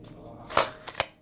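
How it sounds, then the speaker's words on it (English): Tarot cards pulled from a deck give a brief close shuffle with two or three quick, soft slapping flicks, faint and short. "let's pull some cards."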